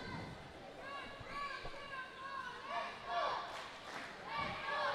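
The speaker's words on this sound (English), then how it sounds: "The crowd trying to get Singapore back into it with cheers of "Let's go Singapore, let's go."" A crowd at a youth tchoukball championship final between Singapore and Chinese Taipei chants and cheers in rhythmic waves for Singapore, a little distant and steady through the whole stretch, with a commentator talking over it.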